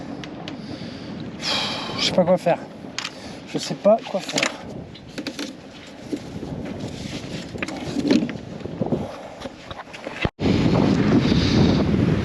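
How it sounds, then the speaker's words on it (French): Gusts of wind buffet an anchored sailboat, rushing and rumbling against the microphone in strong bursts, loudest near the end, while someone talks over it. "Quand il y a des rafales de vent, là, comme là, c'est un calvaire aussi."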